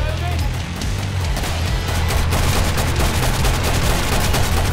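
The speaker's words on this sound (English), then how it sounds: "He's shooting again." Enemy gunfire in the video game Killing Floor, a loud, dense, continuous barrage of rapid shots filling the whole stretch, with no clear pauses between bursts.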